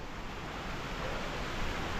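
Cautley Spout waterfall heard from its base in the Howgill Fells, a constant broadband rushing hiss of falling water, steady and moderately loud for two seconds with no talking.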